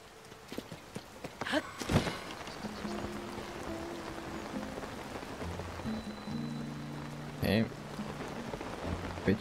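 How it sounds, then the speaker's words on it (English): Steady rain patters across the ground in The Legend of Zelda: Tears of the Kingdom, a continuous soft hiss with faint game tones and a few brief louder knocks over the wash. "Hopefully it stops raining soon."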